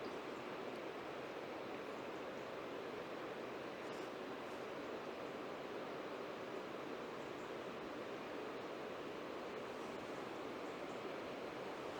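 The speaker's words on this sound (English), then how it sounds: "wind's getting up as you can see" Wind blows through autumn woodland as a steady, broad rushing roar, constant and unbroken at moderate level, with no voices.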